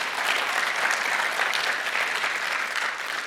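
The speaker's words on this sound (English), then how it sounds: "let's kick off the morning by maybe having a round of applause if you enjoyed yesterday's content on stage" An audience at a conference talk on disasters applauds in a dense, steady clatter of many hands that holds evenly throughout and fades slightly at the end, with no talking over it.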